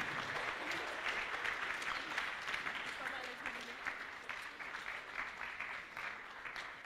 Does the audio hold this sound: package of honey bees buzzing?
no